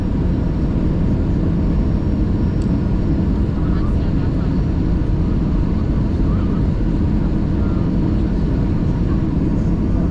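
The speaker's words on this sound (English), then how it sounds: "coming to landing at the Nice airport" An airplane coming in to land at Nice airport in southern France fills the cabin with a loud, steady engine and airflow roar that holds for the whole stretch.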